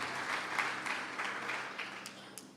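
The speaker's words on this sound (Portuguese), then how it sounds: "Dá uma salva de palmas ao Senhor." A church congregation applauds together, a steady wash of clapping held at moderate level for a couple of seconds, with a few sharper individual claps standing out near the end.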